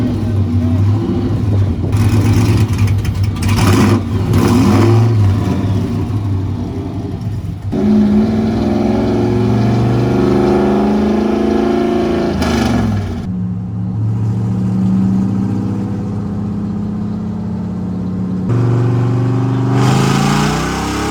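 A 1956 Chevy with a stock supercharged LS2 V8 revs hard during a burnout, a loud continuous engine roar rising and falling over twenty seconds, with crowd and event noise mixed in.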